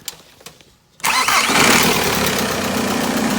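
A 1998 VW Caddy Mk1 with a swapped AHU TDI diesel engine sits quiet with faint ticks, then cranks and catches at once into a loud, steady, rough diesel idle that continues to the end.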